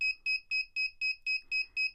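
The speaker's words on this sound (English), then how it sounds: "we can hear the beeping becomes more rapid" Rapid electronic beeping from an Arduino sonar sensor in a steady rhythm, about four short tones per second, clear and fairly close, with no voices.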